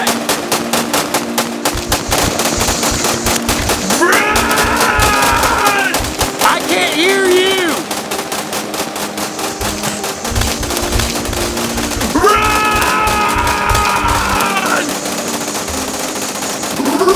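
Airsoft guns fire in long rapid bursts on an outdoor airsoft field, a continuous rattling clatter close by, overlaid with intermittent electronic or motor whines and some voices.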